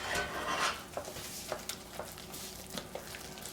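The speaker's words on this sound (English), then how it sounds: "So we're stirring in the eggs one at a time." A spoon stirring eggs into cream puff dough in a bowl, soft scraping with light intermittent clinks against the bowl, quiet and close.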